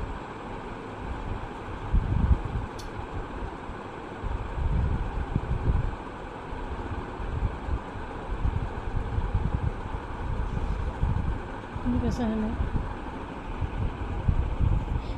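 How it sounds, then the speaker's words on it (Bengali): A sewing machine stitches the folded bottom hem of a kameez, its motor giving a steady, close, rumbling whir that runs almost without pause, with slight surges in intensity and no voices. "এবার নিচের অংশের আমি ভাঁজটা করে নিচ্ছি এবং সেলাই করে নিচ্ছি"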